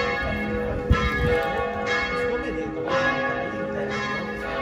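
Church bells of the San Marco Bell Tower in Venice ringing in slow, resonant strokes about one per second, the deep tones overlapping and lingering over faint background noise.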